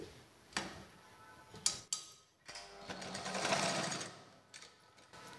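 An electric sewing machine stitches a blouse seam at close range, running in short starts and then a longer steady whirring burst with rapid ticking needle clatter, separated by brief pauses and small clicks.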